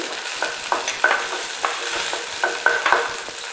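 Garlic and spices such as coriander and cumin sautéing in a pan for poondu kuzhambu (garlic curry), with a spoon scraping and stirring in repeated bursts over a steady background sizzle.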